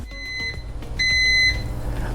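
Microwave oven heating oatmeal finishes with a series of short electronic beeps, a few quick tones followed by a longer held beep, close and clear over low kitchen hum.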